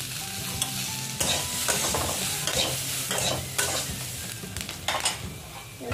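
Capsicum is stirred and fried in a pan, with a continuous loud sizzle broken by repeated scraping strokes of the spoon, and no voices.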